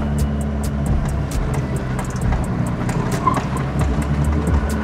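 A car drives off and accelerates, a close engine rumble with rising drive noise and scattered sharp ticks and clatters, loud and continuous without talk.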